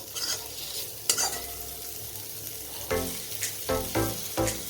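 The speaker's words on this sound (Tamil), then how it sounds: "இதையும் கொஞ்சம் நல்லா கலரி விட்டுக்கணும்" Paneer tossed with salt in a hot pan sizzles steadily while a spoon or spatula scrapes and stirs it in several close, distinct strokes, the scraping picking up toward the end.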